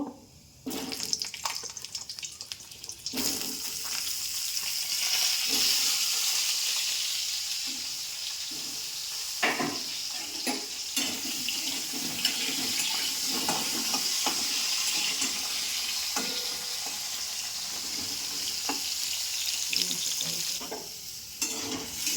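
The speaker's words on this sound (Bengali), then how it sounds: "বন্ধুরা আলুটা ভেজে নিয়েছি" Potatoes fry steadily in a pan with black cumin seeds, giving a continuous bright sizzle with occasional stirring clatters, fairly close and without talk.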